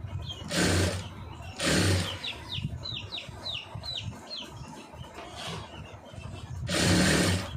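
A sewing machine stitches a blouse neckline in several loud bursts, each running about a second, separated by quieter pauses with faint chirping noises in between.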